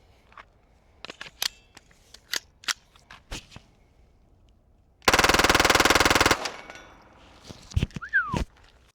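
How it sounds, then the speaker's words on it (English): A CMMG AR-22 .22 LR rifle fitted with a Lone Wolf Eliminator 22 suppressor and a banana magazine fires: sharp muted shots, several single cracks, then a dense rapid burst about a second long, followed by scattered clicks and a short whistling tone. "suppressed banana mag testing on the CMMG 22 LR AR-22 build with the Eliminator 22 suppressor from Lone Wolf Arms"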